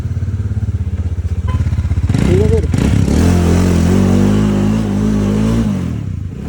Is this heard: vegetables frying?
no